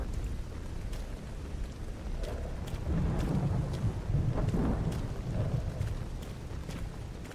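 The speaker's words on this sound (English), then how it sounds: "Thunderstorm." In S.T.A.L.K.E.R. GAMMA, a thunderstorm rolls as a low, swelling rumble of thunder. It peaks midway over steady wind and rain hiss, then eases back, with no speech.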